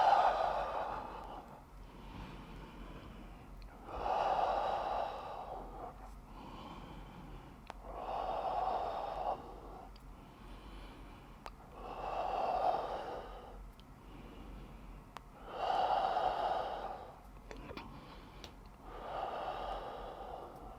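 Slow, deep breaths during an at-home workout repeat in a steady cycle, each a breathy inhale or sighing exhale that swells and fades about every four seconds. The breathing is close and alone, with no talking.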